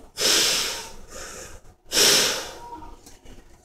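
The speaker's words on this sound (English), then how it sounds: "I give him two deep rescue breaths and hold his nostrils so no air escapes" Two deep rescue breaths are given during CPR, each a breathy, airy rush of air lasting about a second, close and fairly loud with a short pause between them.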